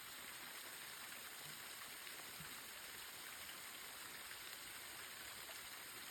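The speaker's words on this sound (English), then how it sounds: "The water comes down the mountain." A natural spring waterfall flowing down a mountain gives a faint, steady, even rush of falling water with no breaks and no voices.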